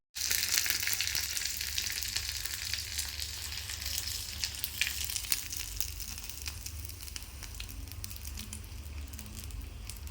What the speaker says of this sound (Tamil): இப்போ பருப்புக்கு நம்ம தாளிப்பு கொடுத்தாச்சு.